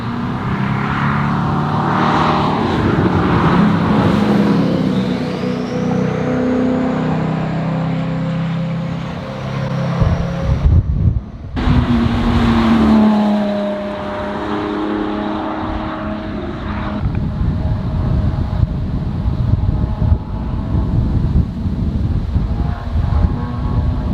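Ferrari SF90 and SVJ supercars on a private racetrack, their engines a loud, continuous roar that swells and fades as they pass, with a brief dip near the middle before another car rushes by.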